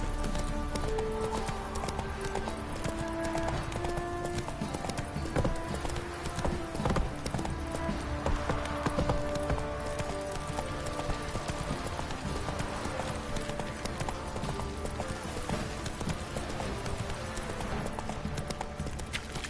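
Horse hooves clip-clopping steadily in the Witcher 3 video game, a continuous rhythmic trot close up with an occasional whinny, layered over game background sounds.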